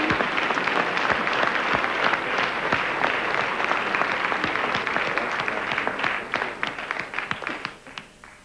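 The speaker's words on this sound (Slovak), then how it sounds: "Aplauze." A large crowd at the Slovenský Slávik 1996 awards breaks into thick, sustained applause that holds steady, then thins into scattered individual claps as it dies away.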